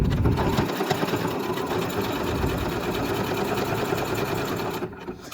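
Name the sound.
sewing machine stitching lingerie fabric, with backtack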